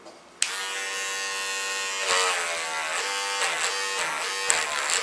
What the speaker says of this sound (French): bah je vais y aller avec la tondeuse.